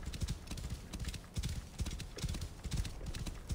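A horse gallops across desert sand in the video game Assassin's Creed Origins, rapid rhythmic hoofbeats pounding steadily and close, with someone talking over them.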